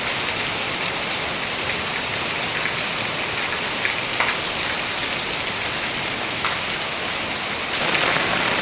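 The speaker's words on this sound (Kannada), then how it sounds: "ಈಗಂತೂ ನೋಡಿ ಎಷ್ಟು ಜೋರಿಂದ ಮಳೆ ಇದೆ" Heavy rain pours down in a steady, dense hiss that stays loud and even throughout, with no voices over it.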